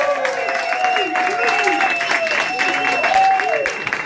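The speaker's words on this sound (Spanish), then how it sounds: "¡Un aplauso para la pluma," Applause from an audience at a small shop, steady broadband clapping sustained throughout with a person talking loudly over it.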